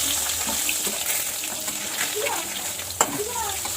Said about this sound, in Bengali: এক পিঠ মনে হচ্ছে একটু ভালো করে ভেজে নিচ্ছি।